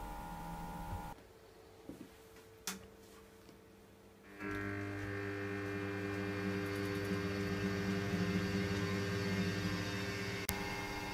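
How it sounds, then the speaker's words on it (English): Spindle of an SB-2000-P balancing machine spins up with a grinding wheel mounted, a steady mechanical hum and whine rising after a quiet start, with a few clicks before and a sharp tick near the end. "When you are happy the weights are at the correct angles, press next and start the spindle."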